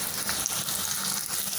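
Sliced onions fry in hot oil in a pan, giving a steady close sizzle and crackle that runs unbroken throughout, with no voices over it.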